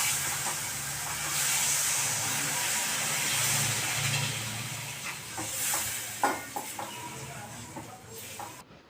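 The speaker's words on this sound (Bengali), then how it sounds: "এবার আমি জল দিয়ে দেবো।" Water poured into a pan of simmering katla fish kalia gravy sets off a loud, steady steaming hiss that slowly fades into softer bubbling and a few clinks.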